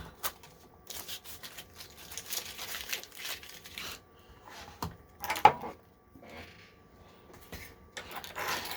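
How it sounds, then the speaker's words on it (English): Older, weakly sticking adhesive tape peeled back from painted paper, with soft crinkling and tearing rasps in several short pulls, close and fairly quiet. "Let's peel back the tape."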